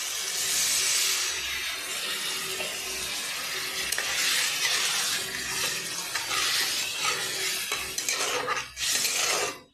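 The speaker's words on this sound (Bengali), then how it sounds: "এবার আমি ডিমটা দিয়ে দিলাম, ডিম আলু দিয়ে দিলাম, দিয়ে একটু কষিয়ে নেব।" Eggs and potatoes frying in spiced masala for Bengali egg curry, a loud close sizzle with repeated scraping stirs that surge and ease in waves throughout.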